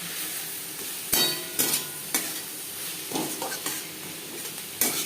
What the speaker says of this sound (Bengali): লবণ হলুদ পেঁয়াজ টমেটোর সাথে মিক্স করে দেবো